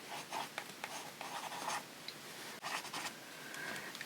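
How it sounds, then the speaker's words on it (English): A Sailor fountain pen with a bent nib drawing thick lines on paper, a close, quiet series of soft scratchy strokes with brief pauses between them. "I also take this Sailor fountain pen which has a bent nib. It gives me quite thick lines,"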